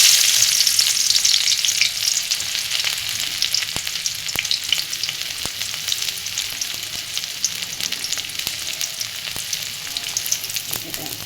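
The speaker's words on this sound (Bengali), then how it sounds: "ডাল এখন তেলে দেবো" Cooked lentils (dal) hit hot oil in a pan, giving a loud continuous frying hiss with scattered sharp crackles and pops that ease slightly over time, with no talking.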